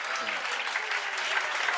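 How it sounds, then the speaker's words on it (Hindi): A group claps steadily in a room, a dense continuous patter of many hands with a few voices faintly underneath. "ताली बजा दो भाई सारे"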